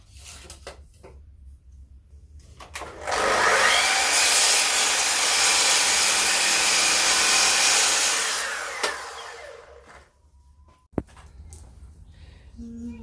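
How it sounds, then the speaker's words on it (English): Power sander hooked up to a vacuum on a woodworking build: a loud, steady whirring hiss starts abruptly, holds for about six seconds, then winds down, with quieter workshop noise and a sharp click before and after. "Got the sander hooked up to the vacuum."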